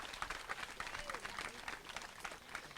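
Audience at a local TV campaign broadcast in Montret clapping for a guest, brisk continuous applause from a small crowd, mixed with a few voices.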